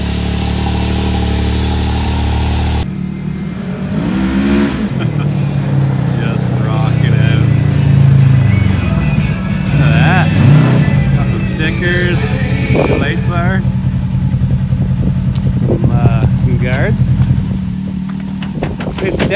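A side-by-side UTV engine, a Can-Am Maverick X3 or Polaris RZR 1000, starts up and idles, then revs and rumbles loudly up close, with people talking over it.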